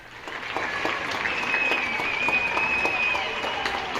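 Sustained applause from a crowd clapping in support of healthcare workers, dense and steady for the whole span with a faint whistle-like tone running through the middle.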